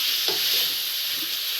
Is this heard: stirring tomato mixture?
yes